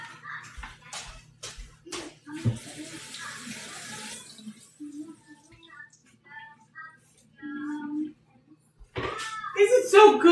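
Tap water running into a kitchen sink while food is rinsed, a steady hiss for a few seconds amid clatter, with speaking before and after.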